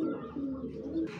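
A female Hungarian Budapest pigeon gives a soft, low cooing over roughly a second, faint and fairly close, with a brief rustle at the end.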